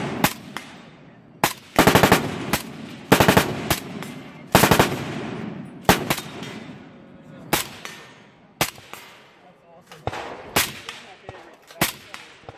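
Gunfire at the Live Free or Die 2017 shooting event in Keene, New Hampshire: repeated sharp shots and short rapid strings crack out at irregular intervals, loud and fairly near, with faint voices between them.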